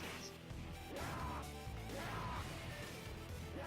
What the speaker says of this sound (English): breaking stuff. Yes, Breaking glass.